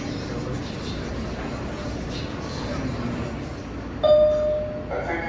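A New York City subway L train made of R143/R160 cars runs near 14th Street Union Square as a steady, rumbling car interior with a squealing metallic tone near the end. A recorded announcement voice talks over it.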